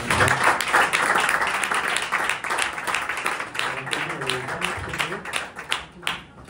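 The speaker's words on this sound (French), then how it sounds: "On peut les applaudir aussi pour les encourager." A crowd at a contest finale at Le Bourget applauds steadily, a dense wash of clapping that slowly thins out toward the end, with some voices mixed in.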